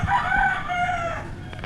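A rooster crows once, loud and close, in a long drawn-out call.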